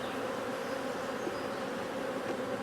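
Honey bees drone inside an open hive during a frame inspection, a steady dense buzzing hum from many insects close by, faint and unbroken.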